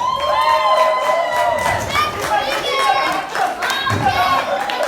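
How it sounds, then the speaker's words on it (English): Children in the audience at a Rubik's Cube magic show cheer and shout with scattered clapping, a loud, continuous crowd of young voices filling the room throughout. "Round of applause."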